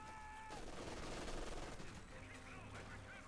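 Rapid machine gun bursts in the World War II strategy game Company of Heroes 2, rattling alongside other battlefield gunfire in a busy, continuous mix, with faint game tones layered over the fire.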